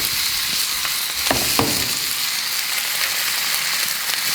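A fatty, aged Black Pearl beef rib steak sizzles on a hot plancha, a steady close, bright frying hiss with a few sharp spattering pops early on, no voices.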